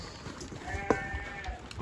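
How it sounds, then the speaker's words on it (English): Sheep and goats bleat in a farm pen at feeding time, a clear harmonic bleat rising near the middle over a busy background of shuffling animals and farmyard noise. "Got all these sheep back in here."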